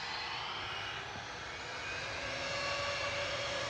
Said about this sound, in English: EasyJet to Belfast, flight 701.